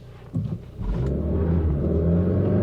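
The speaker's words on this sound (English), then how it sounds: "Let's try a quick 0 to 80, just for the fun of it." A SAAB 9-5 Aero estate car accelerates hard from a standstill toward 80, its engine rumbling close and steadily building into a sustained drone after a brief surge.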